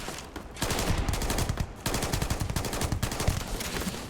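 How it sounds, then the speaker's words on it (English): Rapid automatic gunfire in the video game Starfield, a dense sustained burst of shots with a brief pause before it resumes, loud and continuous with no talk. "I'm just gonna shoot in your general direction"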